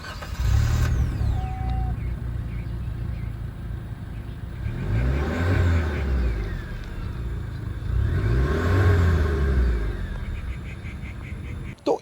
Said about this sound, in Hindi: बाकी एग्जॉस्ट साउंड भी आप लोग सुन लीजिए।